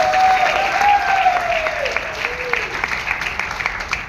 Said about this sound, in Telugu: ఒకసారి great round of applause Deepak Sood sir.